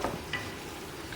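Onions sautéing in a pot are stirred with a few soft scrapes over a faint sizzle, quiet and close, with no voices.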